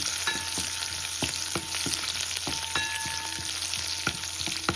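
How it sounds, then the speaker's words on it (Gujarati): Chilies and peanuts roast in a hot pan for poha with a continuous sizzle. Sharp ticks and pops from the pan and stirring come at irregular intervals, and no one speaks. "હવે કે મરચાંને જરાક રોસ્ટ કરશું સિંગદાણાને રોસ્ટ કરશું"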